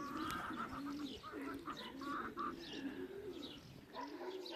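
Racing pigeons at a loft in Kalvarija as birds return from a 133 km race, with repeated soft, throaty coos and chirps carrying steadily throughout at close range amid light outdoor ambience.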